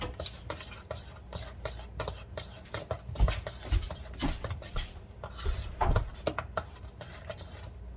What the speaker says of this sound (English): Alrighty, stir that in.